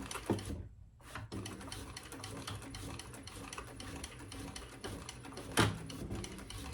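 A home sewing machine back stitches the side seams of a fabric bag, a close rapid mechanical chatter that runs continuously after a brief pause near the start, with a thump near the end.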